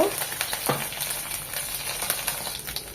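Steady sizzling of ginger and garlic frying in hot oil, with occasional scraping stirs in the pan, close by and fairly quiet.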